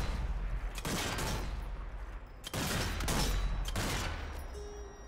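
Rapid bursts of gunfire in the zombie shooter Zombie Army 4: Dead War, three loud dense volleys of overlapping shots with short gaps between, close and sustained.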